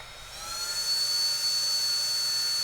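Small USB-C rechargeable handheld fan spinning up, a rising whine that settles into a steady high-pitched whirr with airy rush, close and continuous.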